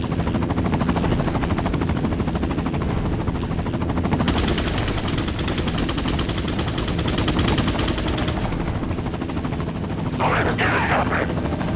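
Gunfire in the video game Resident Evil 4 comes as rapid, steady bursts over a constant loud droning background, with a brief voice near the end.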